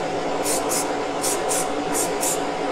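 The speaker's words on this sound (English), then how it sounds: "I've got to spray indoors today" Six short hissing bursts of aerosol spray paint in pairs, sprayed indoors onto a Corgi model car, sounding over a steady, noisy background.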